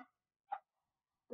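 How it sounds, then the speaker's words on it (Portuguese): A dog gives three short, sharp barks spaced apart, close by and loud against an otherwise silent background. "minha cachorra"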